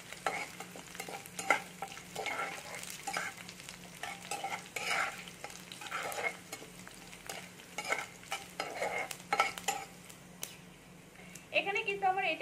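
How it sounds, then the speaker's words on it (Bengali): Ingredients frying in a pan, a soft continuous sizzle broken by frequent stirring scrapes and clinks of a spoon against the pan, close and fairly quiet, with a louder sizzle near the end. "এখানে আমি সবগুলোকেই কিন্তু একটু ভালো করে ভেজে নিচ্ছি।"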